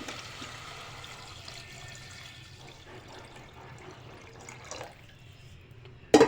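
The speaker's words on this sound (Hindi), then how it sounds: "मैं इसमें 8 गिलास के करीब पानी ऐड करूँगी" Water is poured into a cooking pot for chicken yakhni, about eight glasses' worth, as a quiet, continuous splashing stream that ends with a sudden louder clunk.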